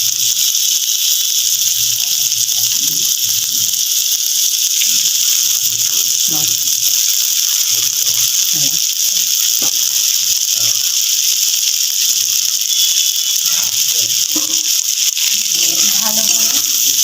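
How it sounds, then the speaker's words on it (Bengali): Chopped tomatoes and boiled pasta fry in a pan for vegetarian pasta, a steady bright sizzling hiss running throughout while a person talks over it. "ভালো করে ভেজে নেব।"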